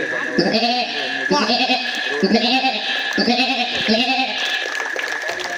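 A man imitates a lamb's bleat with his voice, repeating a wavering, nasal cry five times in an even rhythm, loud and close with no other sound.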